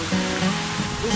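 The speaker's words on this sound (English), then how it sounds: "This isn't the waterfall we're supposed to go to." A waterfall on a mountain hiking trail in Madeira, Portugal, pours with a steady, loud broadband rush that fills the whole moment without pause.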